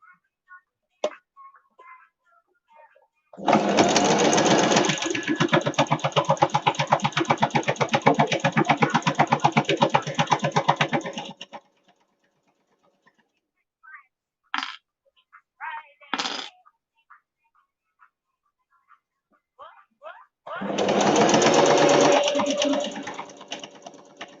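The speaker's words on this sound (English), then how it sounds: "the sewing machine's going on now" A sewing machine runs in two bursts of rapid mechanical whirring and stitching, separated by quiet with small clicks and handling noises.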